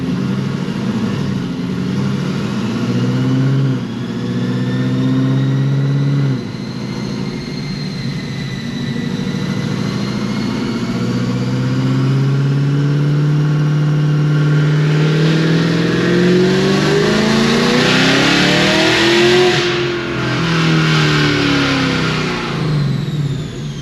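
A Cadillac CTS-V's Magnuson 2650 supercharged engine makes a dyno pull to 5,400 rpm while running slightly lean. Its loud, close engine note climbs steadily in pitch with a supercharger whine, then eases back, with no talking.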